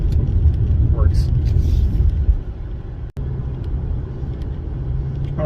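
Infiniti G37 car, driven after a throttle body cleaning, cruises along a road with a steady low engine and road rumble heard from inside the cabin, and someone talks briefly over it.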